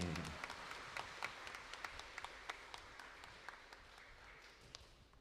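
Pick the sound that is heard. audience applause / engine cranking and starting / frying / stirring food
audience applause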